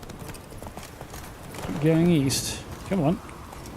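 Horse hooves clip-clop on a road in The Witcher 3 video game, a soft steady patter running under a man's speech.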